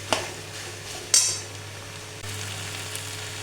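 Chopped garlic stirred in a hot pan for dry chili chicken, a steady close sizzle broken by two sharp metallic clinks of a spatula against the pan.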